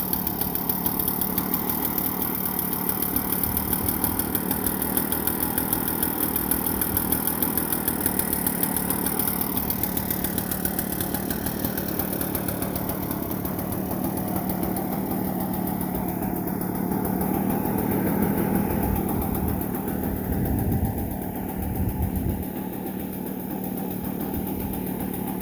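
An Echo PB-500T backpack leaf blower's small two-stroke engine idles as it warms up, holding a steady, buzzy, slightly uneven drone close by that drops a little in pitch partway through, with no talk.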